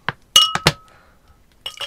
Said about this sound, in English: That's some good drink noises.